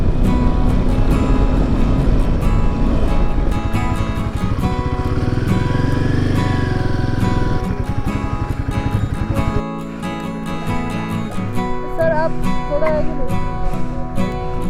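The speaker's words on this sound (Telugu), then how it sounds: "హిమాలయన్ 450 చాలా రోజులు అనుకుంటున్నా ఈ బైక్ని ఎక్కి రైడ్ చేయాలన్నట్టు" A Himalayan 450 motorcycle with a 450cc engine rides through the high Ladakh roads, its steady engine drone continuous and close, mixed with rhythmic background music throughout.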